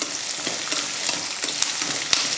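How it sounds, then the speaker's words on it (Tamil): Shallots, garlic and ginger fry in hot oil for a soft parotta dish, a steady close sizzle running throughout, with a few sharp spatula clicks and scrapes against the pan. "அதையும் வெட்டி அதில் சேர்த்துடலாம் இப்போ வறுத்துடலாம்"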